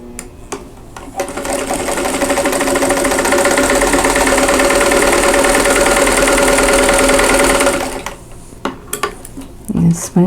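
A sewing machine chain-pieces quilt block pieces in one loud, continuous run of several seconds, with brief handling clicks before and after.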